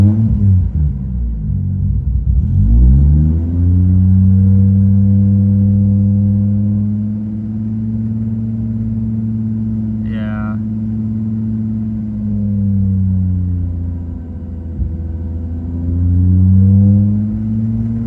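Damaged Toyota Supra engine idles nearby with a loud, continuous rumble that rises and dips in pitch over several seconds, with one brief high-pitched whine in the middle.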